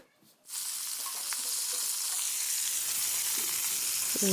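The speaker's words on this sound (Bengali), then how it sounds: "ফুলকপি ভাজা করছি" After a quiet start, cauliflower pieces begin frying with a sudden loud, steady sizzle in the pan that stays constant, faint clinks and voices far off.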